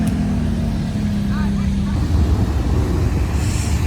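A Ferrari F430 Spider pulls away on a Paris street near Place Vauban, its engine tone rising and fading into traffic and wind noise, with someone talking over it.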